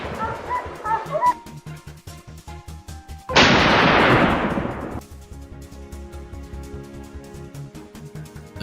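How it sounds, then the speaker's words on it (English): During a wild boar hunt, a single loud rifle shot cracks and rings out over the field, preceded and followed by dogs barking and yipping in a steady rhythm. "The rifle barked decisively, and the boar dropped instantly."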